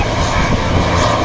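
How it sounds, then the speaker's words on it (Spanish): Eurofighter jet engines spooling up on the ground at an Airbus family day in Seville, a loud, steady, broadband roar that fills the whole moment. "Ya le va a meter motores. Le han dado autorización."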